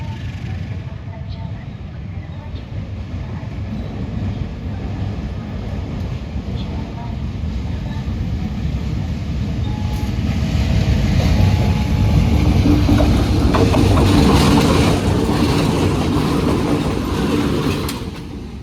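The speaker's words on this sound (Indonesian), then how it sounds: "Ada 2 lokomotif yang lewat jalur paling sini teman-teman." Two vintage CC 201 diesel locomotives rumble past on a railway track, growing louder and rougher toward the end, with a voice talking over the noise.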